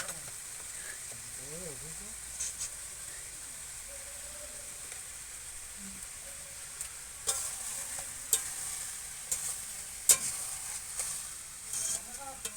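Meat cooking in a pot with oil and spices while being stirred: a quiet, steady frying hiss with scattered scrapes and clinks of a utensil against the pan, louder toward the end, with a voice faintly in the background.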